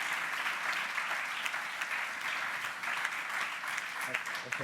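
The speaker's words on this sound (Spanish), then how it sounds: "Por favor, un aplauso para todos ellos y ella" Audience applause fills the room at a Spanish-language talk on advances in brain tumor treatment, a dense, steady clatter of many hands clapping that holds for several seconds without letting up.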